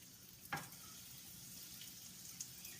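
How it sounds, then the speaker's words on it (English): Sesame chicken pieces go into a pan of hot oil with a soft thump, followed by a quiet, steady frying sizzle that continues throughout. "now I'm going to put it in my pan with hot oil"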